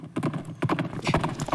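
Horse hooves clip-clopping in the Hyrule Warriors video game, a quick, close, loud run of rhythmic hoofbeats over about a second and a half.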